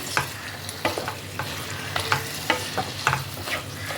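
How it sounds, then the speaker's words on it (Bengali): A spatula stirs bottle gourd with ground garam masala and black pepper in a pan with catla fish head, giving a soft continuous sizzle broken by irregular scraping clicks, fairly quiet and with no talking. "গরম মশলা গুঁড়োটাকে লাউয়ের সাথে ভালো করে মিশিয়ে নিচ্ছি"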